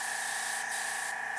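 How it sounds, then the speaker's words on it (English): Airbrush spraying light blue paint while painting hair, a steady soft close hiss with slight breathy surges, heard alone. "now I'm spraying a lighter shade of blue"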